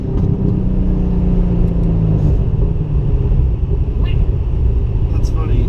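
Straight-piped Chevrolet Corvette engine heard from inside during a ride, a loud, constant low rumble with a droning exhaust note filling the cabin, with people talking over it.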